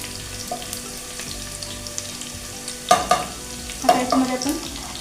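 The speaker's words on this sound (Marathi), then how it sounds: "कांदे घालून घ्या" Onions hitting a hot pan while cooking a jackfruit vegetable dish, with a soft sizzle that jumps into two loud bursts of frying and stirring as they go in.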